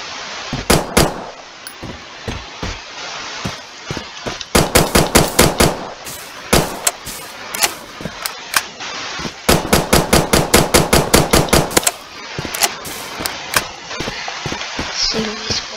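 Rapid gunfire from the shooter video game Bullet Force, with loud automatic bursts and sharp single shots in quick clusters, the longest volleys running for a couple of seconds.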